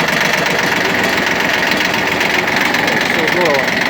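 A Shibaura P17F Japanese 17 hp mini tractor runs with its rotary tiller engaged, giving a loud, steady engine drone with mechanical rattle and vibration that continues without a break.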